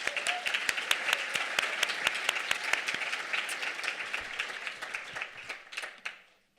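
Audience applause for sponsors at an indoor author talk, brisk crowd clapping with distinct sharp claps throughout, fading out over the last second.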